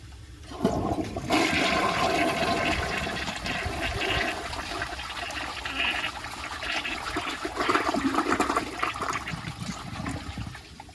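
A 1991 Peerless toilet flushes close by with a sudden rushing surge of water that swirls and gurgles steadily, then tapers toward a refilling trickle.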